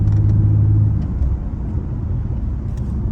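Mitsubishi Eclipse car driving downhill on a road and shifting up a gear, a steady low engine and road rumble heard from inside the cabin.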